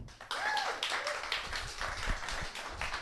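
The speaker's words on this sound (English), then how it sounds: "So everybody give a big round of applause for Mandy Lacklen." Audience at a comedy show clapping for a comedian, a brief round of crisp, moderately loud claps with a few whoops mixed in.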